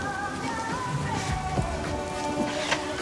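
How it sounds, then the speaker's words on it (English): Steady rain falling outdoors, a dense even patter with a few brief louder drops, filling the whole stretch at moderate level with no talk. "this rain sucks"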